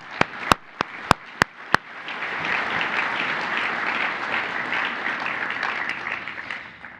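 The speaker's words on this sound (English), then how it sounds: "So can we get a round of applause for the team behind Rapid?" At the RAPID + TCT event, a few sharp, isolated claps ring out, then a crowd breaks into sustained, dense applause that continues steadily.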